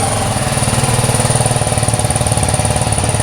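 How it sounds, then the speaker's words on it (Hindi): A BMW single-cylinder motorcycle idles nearby with a mild, low, steady thumping pulse repeating evenly throughout, with no talking over it. "It's a single cylinder motorcycle, but it's very Mild fun to आवाज।"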